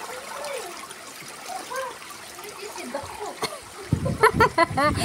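Divers plunge into a swimming pool at a party in Nicosia, Cyprus: water sloshes and splashes in a quick cluster of bursts near the end, while people chatter and exclaim throughout.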